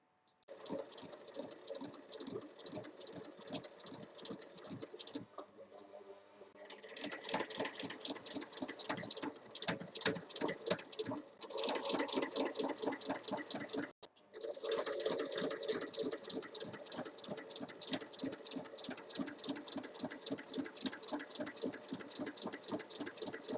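A sewing machine stitches a pouch lining in fast, steady bursts of needle chatter, running nearly nonstop with two brief pauses, close and clear with no talking.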